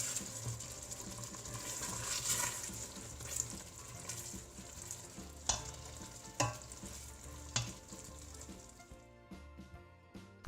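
A chickpea curry with cashew nuts simmers and fries in a pan, a continuous low sizzle broken by several sharp spoon or utensil knocks toward the end before it fades out.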